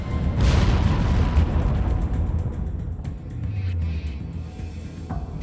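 Massive explosion of the USS Arizona's forward powder magazine at Pearl Harbor, a loud sustained rumbling boom with crackling debris, heavy low roar rolling on throughout with no speech.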